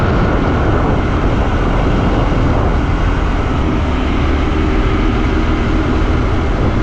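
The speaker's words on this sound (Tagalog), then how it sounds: "Mag-iikot-ikot muna tayo dito gamit ang ating motorsiklo" A Daytona Miro 125 motorcycle rides around Jarun in Croatia, giving a steady, loud, unbroken roar of engine and wind noise throughout, with no talk.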